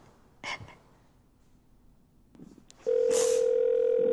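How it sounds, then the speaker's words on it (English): A steady electronic voicemail beep tone starts after a few faint clicks and holds loudly and evenly to the end. "At the tone, please record your message."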